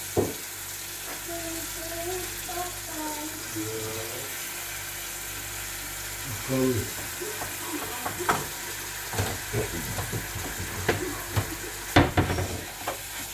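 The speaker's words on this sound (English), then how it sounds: "Now I'm adding my meat into the oil, my blended meat." Blended meat frying in hot oil in a pan, a steady close sizzle with scattered scraping stir strokes and occasional clinks of utensil against the pan.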